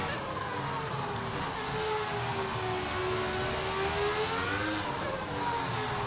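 A modded V10 engine note in the F1 25 racing game holds a steady, loud, high-pitched whine that sweeps slowly down and back up with no pauses, with no talk over it.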